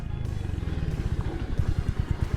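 Royal Enfield Hunter 350 motorcycle engine running in second gear while riding, a steady low throbbing exhaust with a pulsing, slightly uneven beat that grows stronger toward the end.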